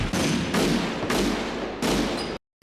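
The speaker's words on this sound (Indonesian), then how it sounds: "ia langsung mengeluarkan pistol dan menembak dada Wong tanpa ragu." Three loud, booming gunshot effects in quick succession, each with a long reverberant tail, then sudden silence.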